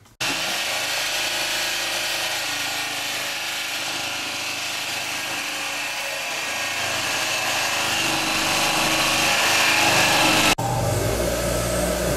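A power tool cuts a long rod into short pieces for catfish jugs, a continuous high whining drone that grows slightly louder and ends abruptly before a brief lower hum.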